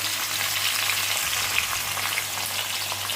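Chopped green mango pieces tumble into hot oil tempered with panch phoron, giving a steady, close crackling sizzle with small pops and a low hum beneath, no voices.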